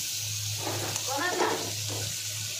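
Cumin seeds sizzle in a hot kadhai with butter: a steady, close frying hiss that holds for the whole moment, with a muffled voice briefly talking over it midway.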